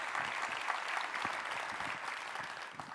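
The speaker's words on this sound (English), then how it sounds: "A big round of applause for them, please." A convention arena audience gives a loud, dense round of applause that holds steady for the full three seconds. Hands clap thickly and evenly with no voices rising above it.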